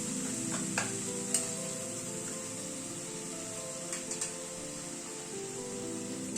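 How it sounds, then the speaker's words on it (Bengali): Spice paste with Kashmiri red chili and a splash of hot water sautés in a pan, a steady close sizzle with a few sharp scrapes and clinks of stirring, no voices. "সামান্য পরিমাণে একটু গরম জল অ্যাড করে দিলাম, দিয়ে মশলাটাকে একটু কষিয়ে নিচ্ছি।"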